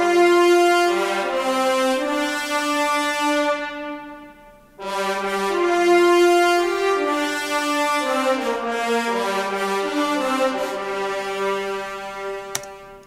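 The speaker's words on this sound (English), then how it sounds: "This is a brass part that was written to it's part of a theme" A brass part from a game theme programmed in Cubase, switching between marcato, marcato longs and staccato: sustained brassy chords and swelling notes, a brief dip midway, then shorter detached notes, loud and full with no talk.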